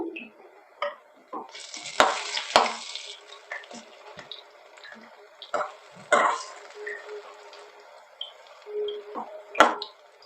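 Lentil pakoras fry in hot oil while being turned, with soft sizzling and intermittent scraping and clatter of the utensil against the pan.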